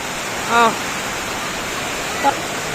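Strong floodwater current rushing after heavy, nonstop rain: a loud, steady, even roar throughout, with two brief vocal sounds rising above it.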